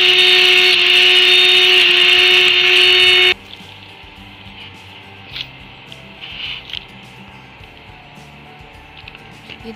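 Electric mixer grinder whirring loudly as it grinds cooled fried masala into a thick paste for Dampukht aloo, a steady dense motor roar for about three seconds that cuts off abruptly, leaving faint kitchen clatter.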